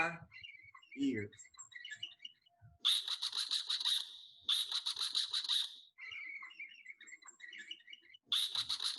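A bird calls in repeated bursts of bright, rapid chirping, separated by short pauses. A voice is heard briefly at the start.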